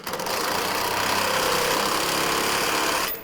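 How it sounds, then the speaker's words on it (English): An impact wrench with a 3/4 socket runs in one steady burst of about three seconds, a dense rattling whir at close range that cuts off abruptly, working on a dwarf race car. "Grab my impact with a 3/4 on it."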